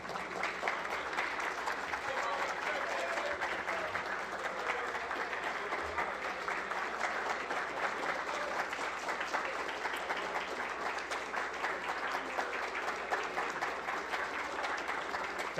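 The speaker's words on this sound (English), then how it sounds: "Let's give a big round of applause to our legend, Mr. Cristobal Mayen." Steady, dense clapping from the audience at a football league awards gala in Belize City honouring a veteran player, sustained and even throughout with a faint murmur of voices beneath.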